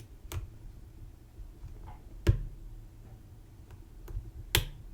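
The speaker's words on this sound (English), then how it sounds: "Oh, do you hear that nice click? That was a really nice click." Small sharp clicks come from a Litto MP60 lock as its pins are picked: a handful of quiet, irregularly spaced ticks heard close up against a low background hum.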